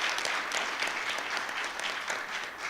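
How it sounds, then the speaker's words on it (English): An audience at a school board of education meeting applauds students, with a steady wash of many hands clapping, moderately distant and continuous throughout. "Let's give those scholars a wonderful round of"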